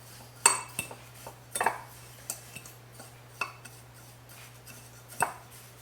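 Poppy, caraway and other everything-bagel seeds are stirred in a bowl, with a utensil clinking and scraping against the sides in irregular, close taps over a quiet background.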